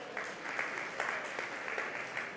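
Audience applause at a tech conference, a steady wash of clapping held at a fairly even level with a few louder swells, heard from a middle distance.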